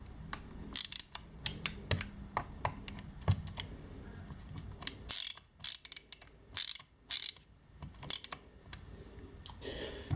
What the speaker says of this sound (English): It's best to turn these by hand so you don't strip them.